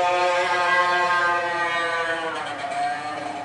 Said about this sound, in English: I think that was a motorcycle.